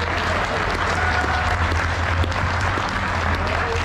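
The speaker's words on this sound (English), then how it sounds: "How about a round of applause?" Sustained applause from an audience at a Corvette C8 presentation at the Rolex 24 in Daytona, dense and even clapping throughout.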